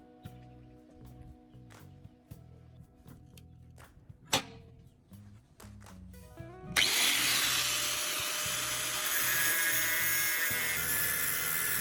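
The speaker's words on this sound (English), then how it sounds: "Then I will mark around the ceramic core and use an angle grinder to cut it." An angle grinder cuts into the ceramic core of a spark plug, a loud, steady high-pitched grinding whine that starts abruptly partway through after quieter scraping and handling sounds.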